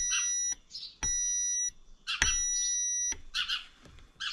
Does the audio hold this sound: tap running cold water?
no